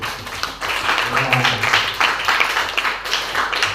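Classroom of students clapping together in a short burst of uneven, lively applause, fairly close, with some voices mixed in.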